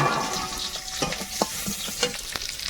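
Chopped garlic frying in hot oil, a bright crackling sizzle up close, broken by quick clicks and scrapes of a stirring spoon, with no talk.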